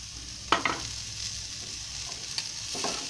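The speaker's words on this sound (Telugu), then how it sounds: "బాగా తిప్పాలి" Fried broad beans with garlic chili powder get stirred in a pan over a steady frying sizzle, with a few distinct scraping strokes spread across the clip and no talking.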